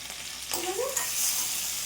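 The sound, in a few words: garlic, chili, onion and curry leaves frying in a pan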